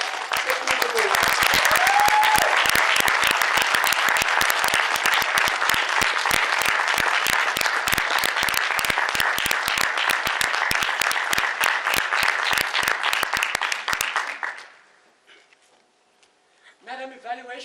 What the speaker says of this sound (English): Please give a warm round of applause to Njabula.